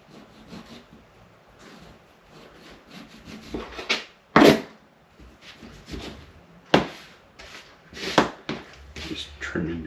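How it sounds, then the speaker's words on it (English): Knife trimming fat off a steak on a wooden board, with short scraping and rubbing strokes and a few sharper knocks of the blade against the wood, close and intermittent. "Just trimming down a little bit of this fat off of here because I really don't need it."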